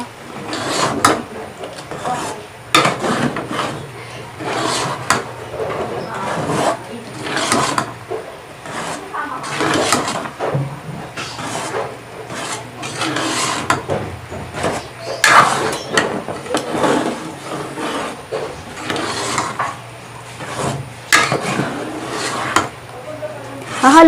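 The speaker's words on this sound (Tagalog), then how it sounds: "Hahaluin po natin maigi hanggang matuyo ang ating gata." Sinuman, sticky rice cooked in coconut milk, is stirred in a pan, with continuous scraping and knocking of the spoon against the pan in an uneven rhythm, close and moderately loud.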